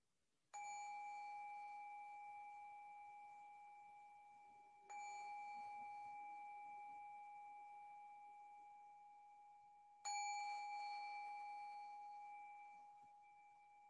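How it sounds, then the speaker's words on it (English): A meditation bell rings three times before Buddhist chanting, each clear metallic strike sustaining and slowly fading before the next, alone in a quiet room. "I'll ring the bell to begin."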